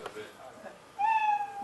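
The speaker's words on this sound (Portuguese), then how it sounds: "Fez miau." A Scratch cat sprite plays its meow sound effect once, a bright sustained mew that follows a moment of quiet speech.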